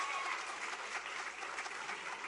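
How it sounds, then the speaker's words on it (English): Steady applause from a school audience greets a newly appointed primary school principal, many hands clapping evenly and fairly close throughout, with no voices standing out. "Give her a round of applause, please"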